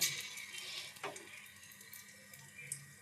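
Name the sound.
small fritters (bora) dropped into hot oil, frying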